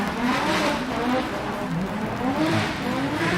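A Nissan 180SX drift car with an SR20 engine revs hard at a drift event in Malaysia. The engine roars loud and continuous, its pitch rising and falling as the car drifts, with tire squeal mixed in.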